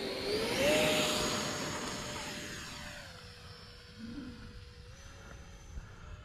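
An E-flite F-15 Eagle RC jet flies overhead with a high electric-fan whine that swells near the start, then fades and shifts in pitch as the model passes and draws away over an open field.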